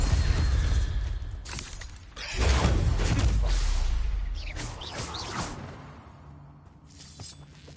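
Hogwarts Legacy Incendio fire spell casts in bursts: sharp whooshing flares with crackling, shattering edges. A loud surge lasts about two seconds, then shorter flares fade away.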